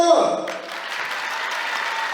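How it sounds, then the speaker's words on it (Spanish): Applause for Rey Alfonsito at a folk dance group's anniversary celebration, a steady wash of clapping that follows a brief tonal burst and holds at moderate level to the end. "un aplauso para el Rey Alfonsito"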